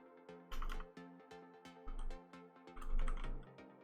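Rapid clicks of typing on a computer keyboard come in uneven bursts over steady background music, with short pauses between runs of keystrokes.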